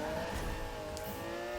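Car engine in the Need for Speed (2015) racing game, a steady, loud droning hum with tonal layers and faint hints of tire noise, running continuously throughout without any talk.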